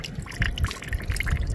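Water flowing outdoors after being diverted, a steady splashing trickle with small drips, fairly close, with wind in the background.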